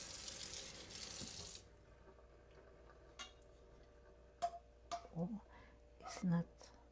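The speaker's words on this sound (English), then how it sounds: "So I drain it." Running water pours into a kitchen sink for the first second and a half, then cooked burrito filling is drained with faint clinks and a few short thuds of a pan or utensils, close by and quiet.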